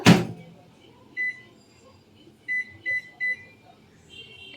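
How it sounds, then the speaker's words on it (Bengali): A microwave oven is set to heat water in a bowl: a soft thump, then a series of short, clear button beeps, with a quiet room hum between them. "এবার মাইক্রোওয়েভ বোলের মধ্যে জলটা দিয়ে আর এটা"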